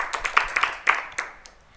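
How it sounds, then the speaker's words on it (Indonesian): A small audience at a Ramadan religious talk claps briefly, with a handful of sharp, uneven claps close by that thin out and fade within under two seconds. "5 Jember, ya tepuk tangan."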